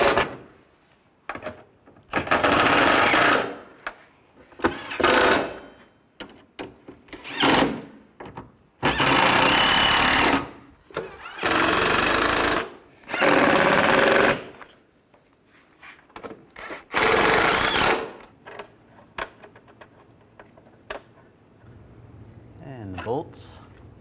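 Bolts are tightened on the A/C condenser of a 1998-2010 Volkswagen Beetle, the tool sounding in a series of loud, harsh bursts of a second or two with gaps between them, and someone talks in between.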